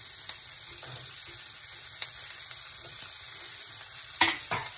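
Finely chopped onion fries in foaming butter for pav bhaji, a faint, steady sizzle close by with a few light taps and a louder clatter of stirring near the end.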